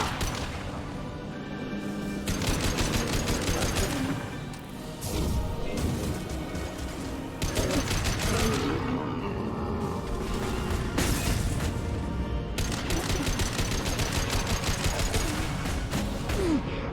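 Gunfire in the Mass Effect 2 video game, dense rapid bursts of shots and mechanical clatter that continue loudly for the whole stretch with brief lulls.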